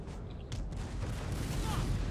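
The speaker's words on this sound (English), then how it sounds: "Cannon are firing." Cannon fire in the Napoleonic battle game Napoleon Total War, a dense rumble of distant artillery booms rolling together with low crackle.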